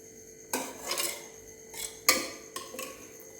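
A metal ladle clinks and scrapes against a bowl while spooning ghee, several sharp taps and short rubbing scrapes spaced unevenly, close and fairly quiet with no talking.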